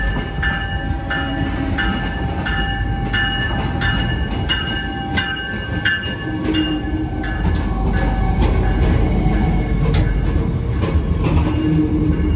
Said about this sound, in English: Here's our train right now.